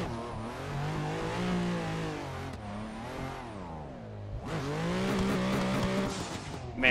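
Chris Forsberg's Nissan Pro Z drift car rips through mountain roads, its engine revving and bouncing up and down in rapid surges as clutch kicks break the rear loose, with tire squeal rising near the end, loud and close.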